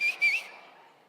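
A person whistles two short, high-pitched notes, the second slightly rising, clear and close, then quickly fading into quiet.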